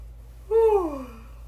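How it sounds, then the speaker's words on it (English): A single close, audible yawn from a woman, rising then sliding downward in pitch over about half a second, with quiet room tone before and after. "I'm gonna yawn"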